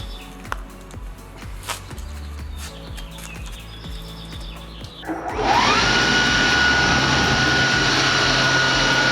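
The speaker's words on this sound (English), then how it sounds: "I'm gonna try blowing everything out with a leaf blower first" A leaf blower blasts dust out of the interior of a 1968 Mustang, starting after a few seconds of faint clicks and background birdsong and then roaring loud and steady with a high whine.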